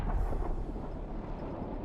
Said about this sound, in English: Ukrainian artillery hits the stalled enemy forces, and those accurate strikes cause massive losses.